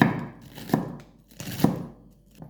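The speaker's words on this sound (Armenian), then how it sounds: "մանր սա էլ եմ կտրատում" Knife chopping romaine lettuce hearts on a cutting board for tabbouleh, a few distinct sharp chops spaced out, close and clear with no talking.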